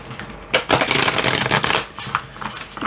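Oracle deck cards are shuffled by hand in bursts of quick riffling and sliding card noise, close and fairly loud, with no talking.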